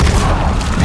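Incendio fire spell cast in the video game Hogwarts Legacy, a short dense whooshing boom of flame with a low rumbling body, loud and filling the brief moment.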